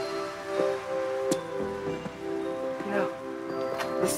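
Rain falls steadily outdoors in a broad, soft hiss, with faint drips and brief bursts of rustling over a low, constant hum.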